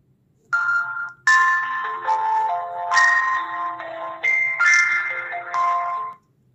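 Find-device ringtone from a Fire-Boltt Phoenix Pro smartwatch: a bright electronic melody of stepped tones and chimes playing loud and close for several seconds, then stopping abruptly, with no speech.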